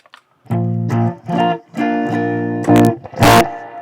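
An electric guitar played through an effects unit with heavy distortion gives a series of loud, close chords, each sustained briefly before the next, ending with a harsher, noisy strum.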